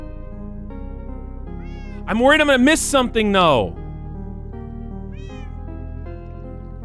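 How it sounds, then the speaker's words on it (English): Cats meow loudly in a burst of overlapping cries near the middle, with a brief fainter meow before and after, while a person talks over the rest. "Those poor cats."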